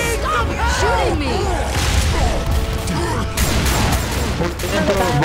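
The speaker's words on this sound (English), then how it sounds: "Stop shooting me!" Left 4 Dead 2 gunfire crackles in dense, busy bursts amid whooshes and crashes during a chaotic co-op fight, with shouting voices over it.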